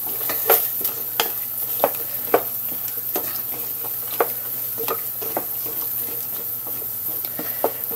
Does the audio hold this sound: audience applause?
no